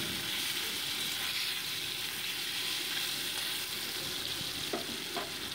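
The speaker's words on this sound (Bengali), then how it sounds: "এবার কড়াইতে সর্ষের তেল গরম বসিয়ে মাছগুলো একে একে ভেজে" Snakehead fish frying in hot mustard oil in a wok gives a steady, close, continuous sizzle with light crackles and no talking.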